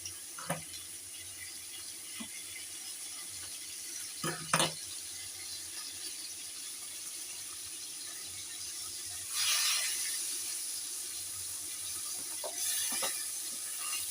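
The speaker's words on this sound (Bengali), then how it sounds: "আর একটু তেল দিয়ে দিলাম ওটার মধ্যে, একটু বেশি করে তেল দিয়ে ভেজে নিই" Hilsa fish head frying in extra oil in a pan: a soft, steady sizzle with a few sharp clatters and stirring knocks, and a louder burst of crackling spitting partway through.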